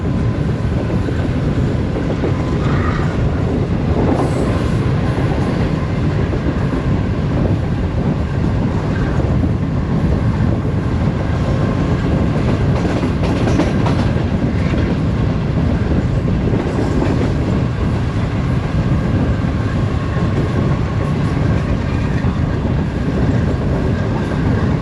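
Train running through Jahaniya railway station, a loud continuous rumble of wheels on rails with rhythmic clatter, heard from on board with no speech.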